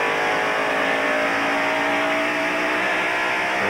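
Stock cars at the 1993 Bud 500 race roar past in a loud, continuous engine drone, several engines blending into one sustained, close howl with no pauses.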